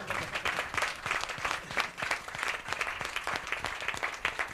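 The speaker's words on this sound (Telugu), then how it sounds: "సో దేవునికి ఒకసారి గట్టిగా వందనాలు చప్పట్లతో" A church congregation applauds together in praise of God, a steady, dense wash of many hands clapping at close range that holds evenly throughout.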